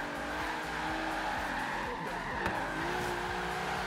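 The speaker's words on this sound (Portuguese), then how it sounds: "vou sair fritando esse pneu aqui" Nissan 350Z drifting in Forza Horizon 3, a continuous loud engine roar with sustained tire squeal and skidding throughout, under excited talk.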